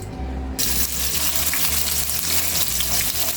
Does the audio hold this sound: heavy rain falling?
no